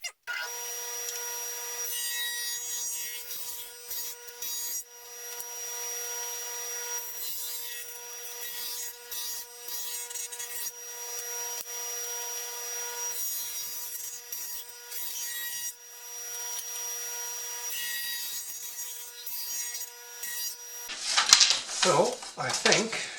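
A table saw blade cutting shiplap into a wooden board, the blade set a quarter inch from the fence at half the stock's thickness; a steady loud whine and rasp runs almost continuously, ending in a brief harsher burst.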